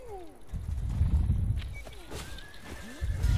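Horse in a medieval battle video game neighing and whinnying loudly with descending and rising squealing calls, set against a rumbling din of movement and ambient noise.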